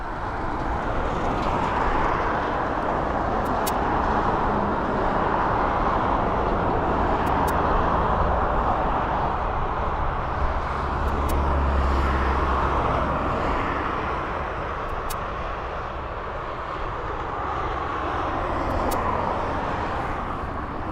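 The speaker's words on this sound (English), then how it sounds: "So there's your Ryanair going off" A Ryanair airliner takes off at East Midlands Airport, its broad jet roar holding steady for the full stretch, loud and continuous with no voices.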